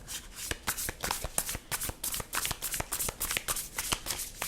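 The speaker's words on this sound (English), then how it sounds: "I'm going to draw some tarot cards" Tarot cards are shuffled by hand, giving a quick, uneven run of crisp riffling slaps and flicks, close and continuous with no talk.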